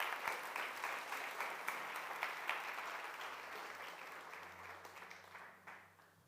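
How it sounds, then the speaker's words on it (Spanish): A church congregation applauds together in sustained clapping that stays steady and fairly loud, then slowly fades toward the end, with no voices over it. "Denle un fuerte aplauso al Señor."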